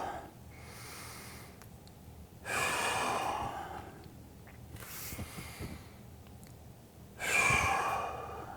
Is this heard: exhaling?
yes